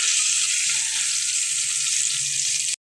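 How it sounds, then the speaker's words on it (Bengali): Tomatoes sizzle and fry in a hot pan with oil, a steady, close, bright crackle that runs evenly and then cuts off abruptly. "টমেটো কিন্তু বেশি ভাজলে গলে যাবে, তাই অল্প ভাজবো।"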